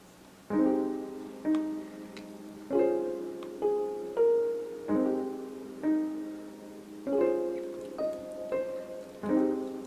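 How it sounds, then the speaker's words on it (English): Soft electric keyboard chords from a free lo-fi hybrid keys software instrument, played slowly, each struck and left to fade, with a mellow, warm tone and gentle pauses between them. "the one I'm going to show you today is the hybrid keys"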